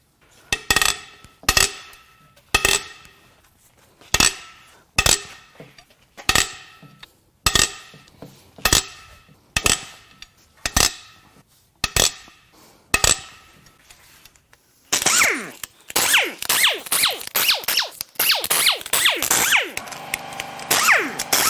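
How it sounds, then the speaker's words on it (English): Head bolts on a Ford 6.8L three-valve V10 are cracked loose with a run of loud, evenly spaced metallic clanks and ratchet clicks, followed by a faster, denser stretch of clattering tool work, close up and without talk. "now it's time to crack the head bolts loose and pull the head"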